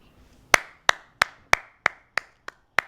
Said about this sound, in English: this is probably the weakest clap you've ever heard because it's only one person